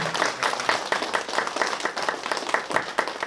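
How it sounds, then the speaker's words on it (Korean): Audience clapping at a founding ceremony for a Korean-Chinese digital poetry study group branch, a steady patter of many hands, moderately loud and continuous for a few seconds with no talk over it. "뜨거운 박수 부탁드립니다."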